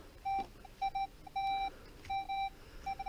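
Metal detector sweeping over a rock beside a WW2 German machine-gun nest, giving repeated steady electronic beeps in short bursts and longer tones, close and clear over faint outdoor background.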